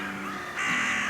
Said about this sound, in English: Kreri and Crew are part of the crow community in my neighborhood